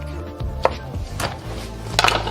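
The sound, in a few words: knife cutting chicken wing at the joint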